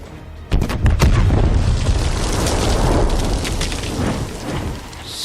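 A heavy explosion booms from a tank in the Left Alive video game, followed by a loud, rumbling roar and crackling debris that fades out slowly over several seconds.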